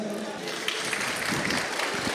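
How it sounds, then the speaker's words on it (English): Steady, dense clapping from a crowd at a stage panel, fairly loud and continuous throughout, with no clear breaks. "That was for you, that round of applause."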